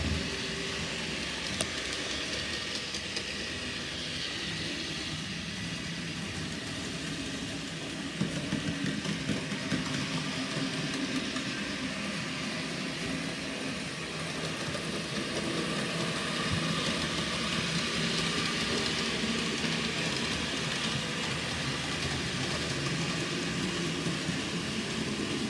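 N gauge model trains run on a harbour layout with a continuous low mechanical hum and faint rattling, even and steady throughout without talk.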